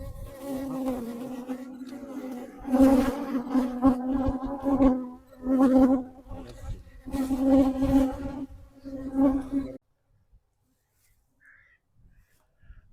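Honeybee drones gathered at a drone congregation area buzz loudly right at the microphone in several swelling bursts with brief knocks as they bump it, then the sound cuts to near silence.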